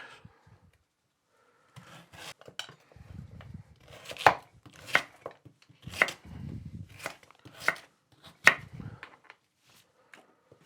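Swede being chopped for a Royal Navy-style slow cooker stew: a series of knife strikes on a board, irregular but steady, close and fairly quiet, with some softer rubbing between cuts.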